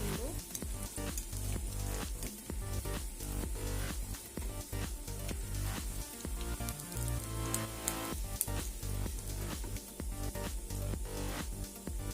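Banana flower fritters fry in hot oil with a loud, dense, continuous sizzle and crackle, close up and with no talking.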